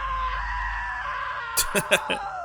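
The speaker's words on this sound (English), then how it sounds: "Now that was a great scream" A game character lets out a rising scream in What Remains of Edith Finch, a long sustained wail over a low rumble, ending in a few sharp percussive hits.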